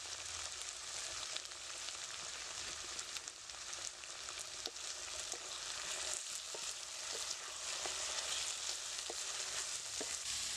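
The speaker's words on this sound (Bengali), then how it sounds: "আলুটাও আমার লাল লাল করে ভাজা হয়ে গেছে" Potato pieces with salt and turmeric frying in a pan, a dense, even sizzle running the whole time with occasional stirring clinks, close but fairly soft, no voices.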